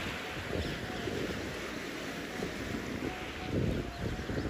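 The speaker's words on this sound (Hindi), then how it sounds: "पानी की साउंड, ऊपर पंछी जा रहे हैं" Flowing water near an ancient cave in a village setting, a steady broad rush with a windy, open-air quality, fairly faint and unbroken, with no talking.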